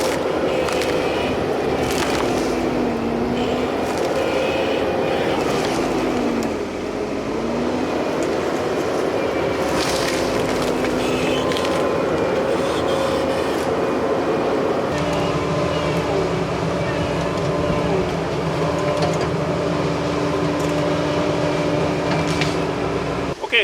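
Skid steer with a heavy-duty tree puller attachment pulling up a 5-inch oak tree, a steady loud diesel engine drone that rises and strains, then settles to a level hum, continuous throughout.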